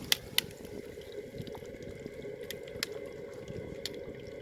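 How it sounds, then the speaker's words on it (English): Condensation water from a boiler drain drips and trickles faintly and irregularly, with a few sharper drop ticks over a low steady hum. "the boiler's running clean and clear, and the condensation is coming through"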